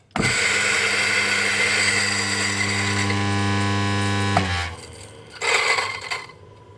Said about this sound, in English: And then we ground up the same coffee beans with the EK43.